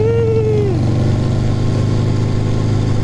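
A 1200cc Harley motorcycle engine runs with a steady, loud, throbbing note up close, and a brief whining tone slides downward near the start.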